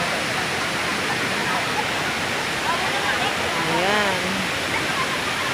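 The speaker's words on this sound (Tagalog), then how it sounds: "Ang lakas ng current ng waterfalls for today" A waterfall at Daranak Falls in Tanay, Rizal, running with a strong current, roars as a steady, loud broadband rush throughout, with people talking briefly over it.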